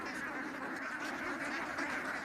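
A flock of farmed ducks quacks continuously, a dense overlapping chorus of many birds at steady loudness throughout.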